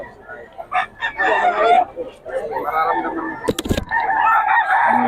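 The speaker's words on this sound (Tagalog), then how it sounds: "Manok, pinagkakaguluhan." Chickens clucking and a rooster crowing in a busy poultry sale crowd, with people talking over the birds and a sharp broadband burst partway through.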